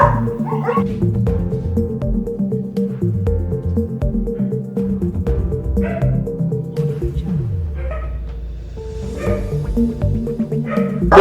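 Several dogs boarded in a veterinary school's pet hostel bark, yip and whimper in a busy, overlapping chorus that echoes around the kennel for the whole stretch, with one brief lull.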